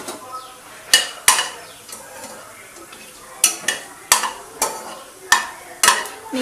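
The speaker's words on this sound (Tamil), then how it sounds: "இது கொஞ்சம் பொரியட்டும்." Food fries in oil in a pan, a soft sizzle beneath a series of sharp clanks and scrapes from a stirring spoon, for keema balls cooked Madurai style.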